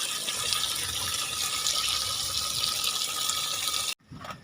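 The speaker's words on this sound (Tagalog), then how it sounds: "Lagyan natin ng tubig." Water gushes steadily into a drum being filled for a washing machine, a loud, close, continuous splashing pour that cuts off abruptly near the end before resuming more softly.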